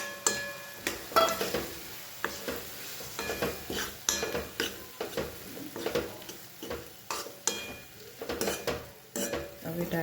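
Tomatoes and red chili go into a sizzling pan for dal makhani, with steady frying hiss under repeated clinks and scrapes of a spoon stirring against the pan, close and moderately loud, no talking.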